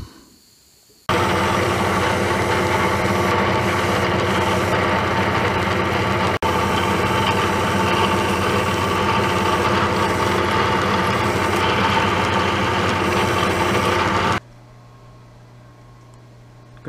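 A steady, loud mechanical whir of a milling machine runs continuously, cutting off abruptly near the end to a quieter hum.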